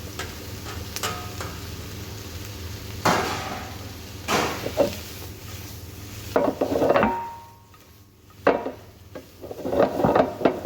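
Chicken pieces sizzle in a pan as a utensil knocks and scrapes against the metal in irregular bursts, with steady frying underneath and a short quieter pause near the end.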